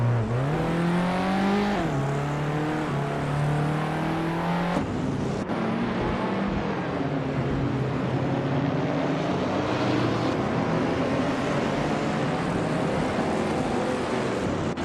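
Race cars roar through the opening corners of a race, their engines droning loud and steady with pitch sweeps as they brake and accelerate, several machines overlapping in a continuous, close rush.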